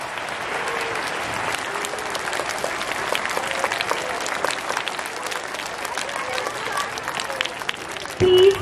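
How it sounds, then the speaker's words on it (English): A crowd at a school's annual day celebration in Mohan Garden gives a long, dense round of applause that holds steady throughout, with a louder knock at the very end. "Let's begin the celebration with a huge round of applause for all of us."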